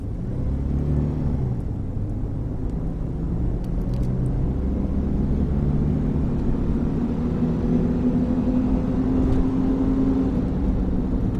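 A 2000 Mitsubishi Pajero Super Exceed's engine hums and drones from inside the cabin as it accelerates through the gears, a steady low rumble with rising tones and no talking.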